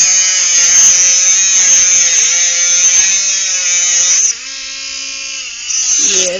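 A Dremel rotary tool grinds through a steel cable bike lock with a loud, close, steady high-pitched whine, its pitch dipping briefly as the cutting wheel bears down.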